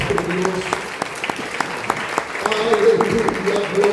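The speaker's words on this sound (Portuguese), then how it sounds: "Dá-lhe aplauso para o Senhor nosso Deus." A church congregation breaks into applause during a Portuguese-language service, a close, dense burst of clapping that continues steadily for several seconds alongside a voice.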